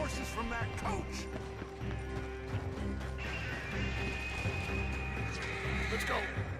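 Horses neigh and whinny in a Red Dead Redemption 2 shootout, with hooves clip-clopping amid crashes, game noise and voices talking over the scene.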